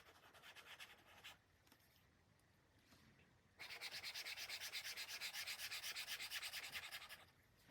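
EMR pen strokes on a reMarkable Paper Pro screen with a paper-like texture, a faint, close scratchy rubbing in short bursts that turns into a steadier, rhythmic back-and-forth scrawl for several seconds.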